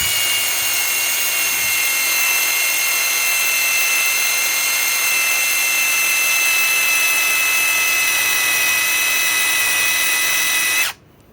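Ryobi PSBIW25 compact impact wrench on an 8 amp 21700-cell battery, running continuously as a loud, steady high-pitched motor whine up close, then cutting off abruptly near the end.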